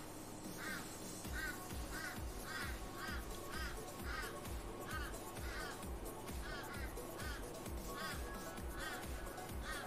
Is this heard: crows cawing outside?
yes